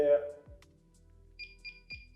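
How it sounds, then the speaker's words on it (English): A Label Next 120s label applicator gives a few faint, quick electronic beeps while its spring is pre-tensioned. A voice talks quietly at the start, and soft mechanical clicks sound in the background. "these beeps, and the spring will start to rotate to pre-tension it to roughly 1 turn"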